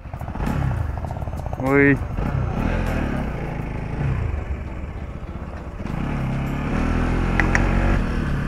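An older-model Bajaj Pulsar NS 200 motorcycle is ridden and accelerated, its engine droning steadily and rising in intensity toward the end, mostly under a rider's excited talking.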